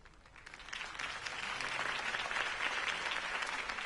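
Crowd applause follows a mayoral campaign speech in a Batman video game, swelling from quieter scattered claps into a full, steady ovation that holds to the end.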